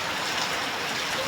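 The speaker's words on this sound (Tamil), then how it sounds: "அதற்காகத்தான் பெய்கின்றது மழை." Steady, dense rain falling, an even hiss of drops hitting surfaces that fills the whole moment without pause or voices.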